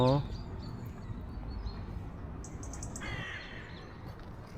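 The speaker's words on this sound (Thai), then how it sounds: "มีเสียงอีกาด้วย" A crow caws near Heidelberg castle in Germany, a short harsh burst of calls at the start and another later, amid quiet outdoor ambience and some talk.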